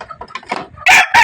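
Caged chickens cluck in short broken bursts, loud and close, and one sharp squawk near the end stands out from the softer clucks; no one talks.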